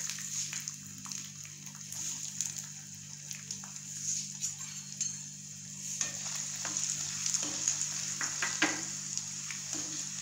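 Ginger pieces cut into chunks fry in hot oil, a steady bubbling sizzle broken by scraping stirs and small pops throughout.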